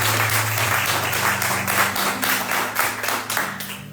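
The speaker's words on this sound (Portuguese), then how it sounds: "dá um forte aplauso ao Senhor, porque Ele é merecedor" A church congregation bursts into applause, dense clapping from many hands that pulses in rapid, rhythmic waves, filling the room and steady for several seconds before easing slightly.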